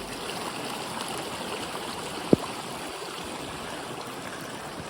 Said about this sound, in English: It's not pouring, but it is raining